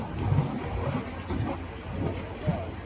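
Seawater heaves through a rocky chasm on the Acadia coast in low, rolling surges that rise and fall like breathing, with soft swells over a steady rumble.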